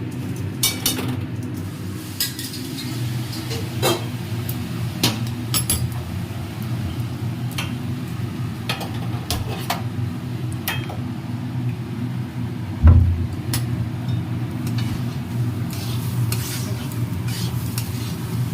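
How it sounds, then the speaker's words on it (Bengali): Soaked dal and rice fry in a pan with a low, steady sizzle, broken by scattered spoon clinks and scrapes as the mixture is stirred and one louder knock near the end. "চালার ডালটা এভাবে আমি কিছুক্ষণ এভাবে একটু ভাজা ভাজা করে দেবো"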